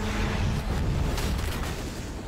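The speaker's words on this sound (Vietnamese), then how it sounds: "Bên này đã nghe thấy tiếng nổ" Explosion in a sci-fi action film about a soldier fleeing aliens, heard as a loud, sustained low rumbling roar with a crackling burst near the middle, lasting about two seconds with no talking.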